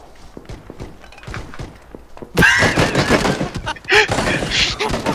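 Gunfight in the video game Black Ops 2: a dense burst of rapid gunfire erupts partway through, loud and close, following quieter thumps and footsteps, with some talk underneath.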